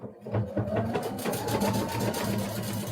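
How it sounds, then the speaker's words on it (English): A sewing machine runs fast stitching through folded fabric with black thread, a rapid, even mechanical chatter heard up close for a few seconds, with no talk over it. "So I'm going to sew this off,"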